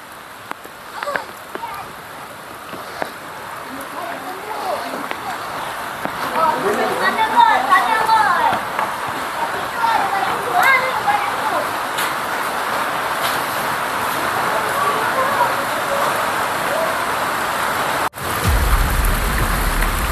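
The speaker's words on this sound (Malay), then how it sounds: "Memang betul-betul hujan lah ni. Memang betul-betul lebat." Heavy rain pours steadily at a zoo, a dense hiss of drops that grows louder midway, with people talking faintly under the downpour.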